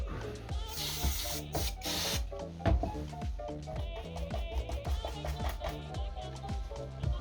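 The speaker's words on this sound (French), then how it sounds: "un petit coup de nettoyant frein" Brake cleaner sprays onto the rear differential of a Hobao Hyper VS2 RC car in a few sharp, hissing bursts early on, followed by quieter scrubbing over rhythmic background music.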